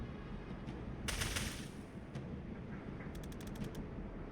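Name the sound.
gunfire in the video game Tactical Breach Wizards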